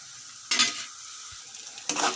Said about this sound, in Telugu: ఇందులో కొంచెం పసుపు, రైస్కి సరిపడినంత ఉప్పు వేసి బాగా కలుపుకోవాలండి.